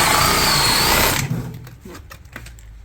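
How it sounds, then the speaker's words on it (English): A power drill bores into a plumbing pipe, a steady high-pitched whine running loud for about a second before cutting off, followed by scattered quieter clicks and handling noises. "Let me get a drill for you."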